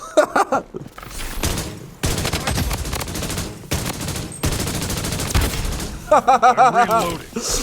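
Bursts of automatic gunfire from the mobile shooter Blood Strike, dense rapid volleys filling most of the stretch, broken by short pauses, with a brief voice near the end.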